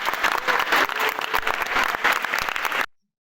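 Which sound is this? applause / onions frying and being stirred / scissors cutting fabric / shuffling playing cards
applause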